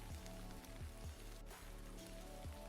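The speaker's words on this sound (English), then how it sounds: "It is raining." Steady rain falls in a visual novel game scene, a soft continuous patter with faint low thumps, quiet and with no voices.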